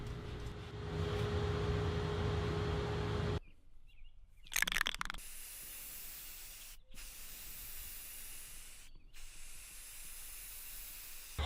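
Spray paint hissing onto a bent plywood under-seat truck storage organizer, a steady close spray in bursts, with short gaps and a brief rattle between passes.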